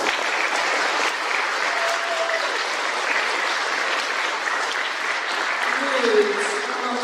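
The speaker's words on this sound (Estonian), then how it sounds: "Ja nüüd teeme suure aplaus 9. klassile." Steady applause from an audience at a school graduation party honouring the 9th grade class, sustained and fairly close throughout with faint voices underneath.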